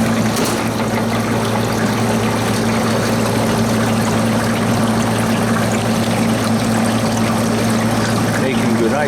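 A 1994 Manitowoc HP81 ice machine runs steadily with a continuous mechanical hum and a constant wash of trickling, pouring water close by, with no break across the stretch and no one talking over it.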